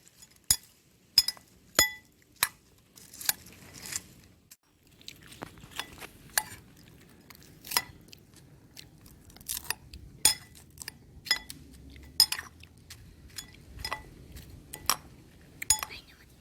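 Lay's chips are mixed with pepper powder in a bowl, giving sharp, close spoon-on-dish clinks and crisp crackles in an irregular sequence over quiet background.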